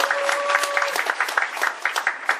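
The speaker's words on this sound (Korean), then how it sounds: "박수 한번 쳐주세요" Audience applause at a Korean parenting lecture, a steady, fairly close patter of many hands clapping with scattered sharper claps throughout.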